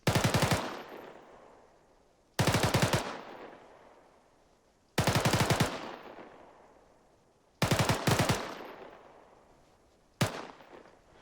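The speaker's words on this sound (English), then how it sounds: "Make sure you're on automatic fire mode, and then you're gonna hold the trigger until you know you release about 3 to 5 rounds" Short bursts of automatic rifle fire in the military shooter Arma 3, five sharp loud volleys of a few rapid rounds each, spaced a couple of seconds apart, every burst followed by a decaying echo.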